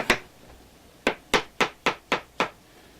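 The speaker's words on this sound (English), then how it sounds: "Chopping technique." A knife chops mushrooms on a cutting board in a cooking lesson. One sharp, close knock comes first, then after a pause six evenly spaced, crisp strikes follow in a steady rhythm.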